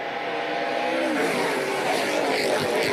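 NASCAR Pinty's Series stock cars race at Sunset International Speedway on a restart under green, a dense, loud roar of several engines running together with faint tire noise, continuous for the whole stretch.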